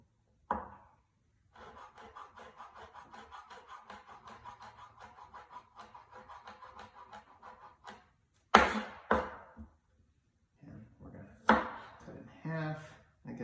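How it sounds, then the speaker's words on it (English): A knife cross-chops food on a cutting board during a knife-skills lesson, giving a steady run of quick, even taps for several seconds. A voice follows the chopping with brief spoken bursts. "I'm going to cross chop all this"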